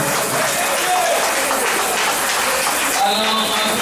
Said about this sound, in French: j'aimerais que vous puissiez applaudir pour lui.